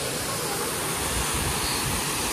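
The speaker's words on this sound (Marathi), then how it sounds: "पाण्याचा आवाज एकदम पीसफुली वाटतो" Muddy water flows steadily in a broad, continuous rush, like a small waterfall or stream near Trimbakeshwar, constant and fairly close throughout.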